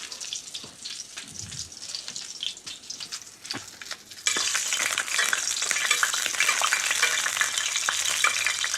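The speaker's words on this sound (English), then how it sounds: "I'm going to go ahead and baste this a little bit as well." Salmon in a frying pan is basted with hot, high smoke point vegetable oil over a medium flame, first as a soft sizzle with scrapes and clinks, then a sudden loud, dense spattering sizzle for the rest.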